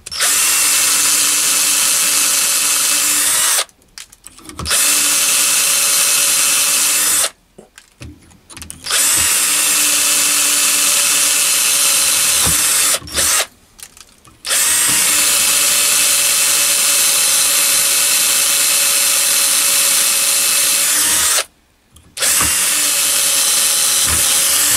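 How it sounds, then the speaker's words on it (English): Power drill boring through a hollow metal bar held in a jig made from an old V-block, a loud continuous whine broken by four short silent gaps as the bit is withdrawn to clear swarf. "When I drill through, I withdraw the drill several times to clear the swarf."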